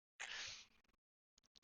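A single sharp sneeze bursts out close and clear, followed by a couple of faint short sounds and then silence.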